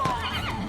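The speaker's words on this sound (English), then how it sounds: "Horse." A horse in the video game Pathfinder: Wrath of the Righteous lets out a short, loud whinny with a falling pitch, mixed with a little clopping, brief and close.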